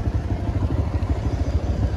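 A motorbike close by, its engine running with a steady, throbbing low-mid putter throughout, no voices.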